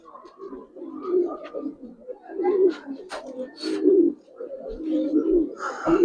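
Pigeons coo in low, repeated throaty bursts close by, with brief sharp flutters of wings breaking in now and then during their release.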